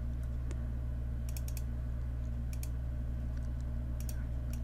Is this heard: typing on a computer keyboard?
yes